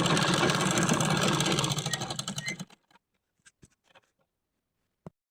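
Sewing machine stitching a petticoat, a fast dense mechanical whir that runs for over two seconds and then stops, followed by a few faint scattered clicks and one sharp knock.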